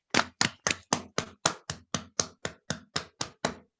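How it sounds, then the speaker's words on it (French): A speech and improvisation contest audience gives applause, heard here as thirteen sharp, evenly spaced claps, loud and close, in a steady rhythm with no talking. "Merci, on applaudit Léonce chaleureusement"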